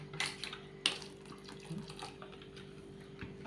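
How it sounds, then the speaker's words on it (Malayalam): Vinegar poured into a Thalassery-style beetroot and carrot pickle for biryani, a faint, thin watery trickle with a few soft clinks, low and fairly steady. "കുറച്ചും കൂടി സുക്ക ഒഴിക്കണം."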